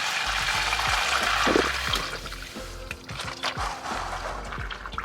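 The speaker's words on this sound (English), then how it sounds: "There's the oil. That's mostly water." Water-contaminated engine oil draining from an engine into a pan, a steady close pour and trickle with splashy, gurgling texture throughout.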